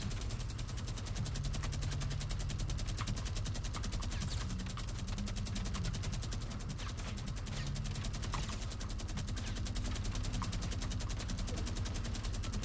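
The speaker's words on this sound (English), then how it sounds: "He's freaking spamming the rockets, dude." Rapid, continuous weapon fire from repeated rocket launches in a Fortnite Battle Royale fight, dense and loud throughout, with bursts layered over a steady rumbling wash of combat noise.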